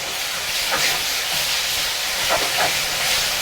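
Duck bulgogi marinated in gochujang sizzles steadily in a frying pan over moderate heat, a continuous close hiss with small crackles and no talking.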